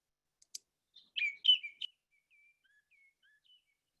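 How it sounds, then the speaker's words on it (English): Birds of the blackbird family calling outdoors, a short close run of sharp chirps and liquid whistled notes, then fainter trailing whistles fading into quiet. "Never get tired of seeing or hearing these birds. They are part of the blackbird family."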